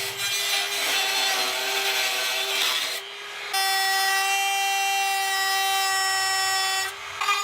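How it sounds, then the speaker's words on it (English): A Dremel with a cutoff wheel notches metal, giving a loud high steady whine that drops briefly in the middle and again near the end. "anytime you're using a cutoff wheel like this, it's really important to wear safety glasses"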